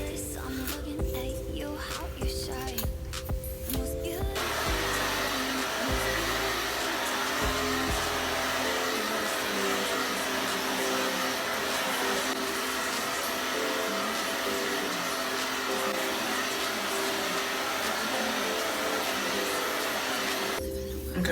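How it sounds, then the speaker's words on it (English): A handheld hair dryer blows steadily and loudly on hair for the whole stretch, a continuous whooshing roar with brief changes in airflow early on as it moves around the head. "I'm going to detangle my hair, and then I'm going to blow dry it."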